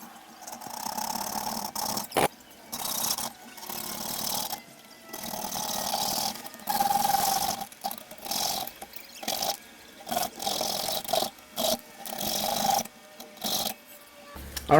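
Cutting open a homemade NERF blaster part with a tool, producing intermittent rasping, scraping bursts with short pauses between strokes, close and moderately loud, with no talking.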